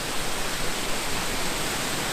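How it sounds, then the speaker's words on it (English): Constant broad rushing roar of a two-tiered waterfall at Chiquito Falls in Cleveland National Forest, a steady, loud wash of falling water with no pauses. "you got a two-tiered waterfall right here"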